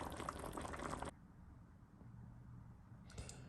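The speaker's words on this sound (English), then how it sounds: "I'm waiting for the sauce to boil." Tomato-style sauce bubbles in a pot around Ukrainian stuffed bell peppers: a dense, close boiling rush that drops suddenly to a low simmer, then swells briefly again at the end.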